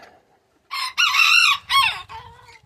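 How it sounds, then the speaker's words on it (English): A rooster crows loudly and up close in a chicken pen, one full call broken into several strained bursts that trail off at the end. "This is the newest rooster, and he ain't got any real allies"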